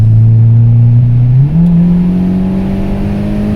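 A Volkswagen Golf 7 GTI TCR engine revs up steadily, its pitch rising smoothly partway through and holding at a higher drone, loud and close with no talk; distinct exhaust pops are not clearly evident.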